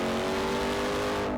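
A 777hp 2027 RAM TRX truck's engine accelerating during an off-road test, a loud, steady, dense roar with a continuous droning tone that holds throughout without pause.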